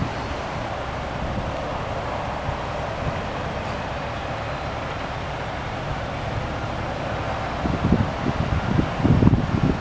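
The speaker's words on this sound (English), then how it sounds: "It's kind of windy" Steady wind buffets the microphone with a broad roar beside a 2017 Ford F-150 Raptor, growing gustier and more thumping toward the end.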